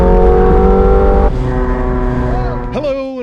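A McLaren 720S Spyder supercar accelerates hard, its engine a loud, close roar that climbs in pitch, drops briefly at a gear change and then climbs again, with a person talking over it near the end.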